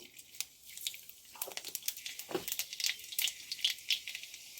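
Panch phoron spices dropped into hot oil in a pan used for frying fish crackle and pop faintly in scattered bursts, soft and close with no talk.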